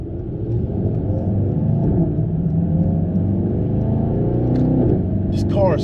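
A Mercedes-AMG E63 S Wagon's engine gives a deep, steady rumble as it pulls from inside the cabin, with a brief rise near the end and people talking over it.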